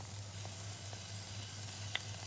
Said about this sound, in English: next we're going to add in our biber chalçesi or the spicy red pepper paste